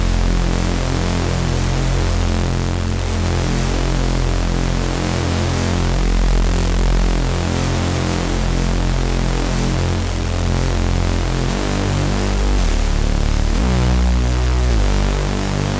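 A thick, gritty distorted Reese bass from a wavetable synth drones continuously, rumbling and slowly shifting in tone, loud and dense with no voices.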